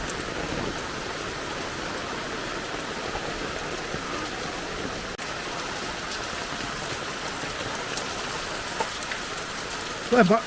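Heavy rain falls steadily, a dense, even hiss of drops on surfaces that continues unbroken for about ten seconds, with a brief voice near the end.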